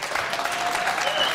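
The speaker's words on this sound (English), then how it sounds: "Round of applause." Studio audience on a televised political debate panel bursts into a short round of applause, a dense steady wash of clapping held at even loudness throughout.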